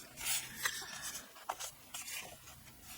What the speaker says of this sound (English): Just going to trim off that ratty edge.